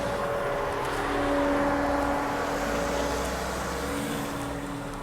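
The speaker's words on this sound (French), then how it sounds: "le barouf qu'a fait sa bagnole à lui" A car drives up and parks nearby, its engine a loud, steady rumble with a droning tone that swells slightly then eases off as it settles, with no talking.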